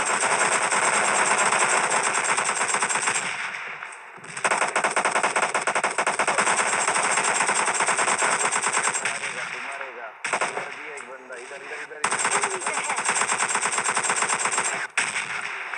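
Rapid automatic gunfire in the mobile shooter PUBG Mobile Lite, loud sustained bursts with brief pauses between volleys, a player talking over the shots.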